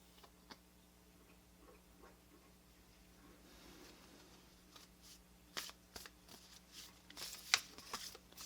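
Tarot cards being shuffled during a May 2022 reading, giving soft, quiet riffling and ticking taps. The cards grow a little louder toward the end, with a few sharper clicks and no talking.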